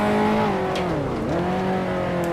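A 1955 Formula One car in the Grand Prix Legends racing game at the British Grand Prix, its engine revving loudly, pitch dropping sharply as it shifts into second gear, then climbing again while the tail slides through a corner.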